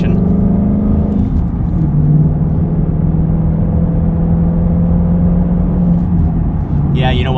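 A Ford Mustang GT V8 with an MBRP 2.5-inch resonator-bypass X-pipe exhaust accelerating gently on a highway, a loud steady low droning rumble heard from inside the car, with a voice briefly speaking over it.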